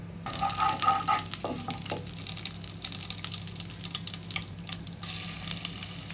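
Dried chillies and curry leaves crackle and sizzle in hot coconut oil with mustard seeds, a close, busy spattering that flares up sharply at moments while being stirred.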